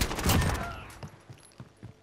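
A burst of video-game gunfire opens loud, then a few spaced, fainter shots follow during a fast team match, with no one talking over it.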